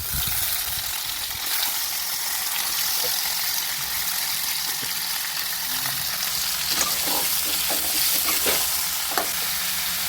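Brinjal pieces fry in a hot pan with a loud, dense, continuous sizzle and hiss, broken by scattered clicks and taps near the end.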